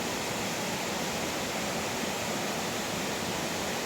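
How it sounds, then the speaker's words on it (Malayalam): A waterfall beside a road, heard as a dense, steady roar of rushing water that stays loud and unbroken throughout with no voices. "ഏ വെള്ളച്ചാട്ടം എന്ന് പറഞ്ഞത് ഇതാണ് മക്കളെ."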